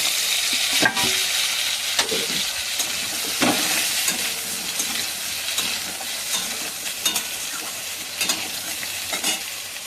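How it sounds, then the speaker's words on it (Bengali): Potatoes frying in hot oil for a mrigal fish curry give off a loud, steady sizzle and crackle, with occasional stirring scrapes close by and no voices. "ওই তেলে মাছের আলুগুলো ভেজে নেব"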